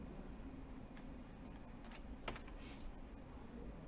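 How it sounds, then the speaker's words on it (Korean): Faint, sparse clicks of a computer keyboard key and mouse come from a desk as someone works in Figma, quiet taps spread over a few seconds against a soft background hiss. "확대해서 컨트롤 누르고 클릭하면 돼요"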